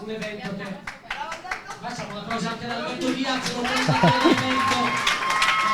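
Crowd applause at a Brazilian jiu-jitsu submission match, clapping building and growing louder over several seconds, with voices and cheering mixed in under the claps.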